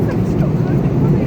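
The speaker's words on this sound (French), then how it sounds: "on est dans l'avion, tranquille" Steady low cabin drone of an airliner in flight on a trip to Florida, a constant loud engine rumble filling the background without pause.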